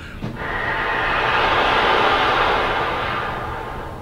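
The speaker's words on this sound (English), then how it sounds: "And you'll be blowing the air through the instrument for 3, 6, 9, 12, 15, a little over 15 beats." A wind-gust effect made by blowing air through a trombone or baritone without pitch: a breathy, hissing rush that swells over a few seconds and then slowly fades, close and alone.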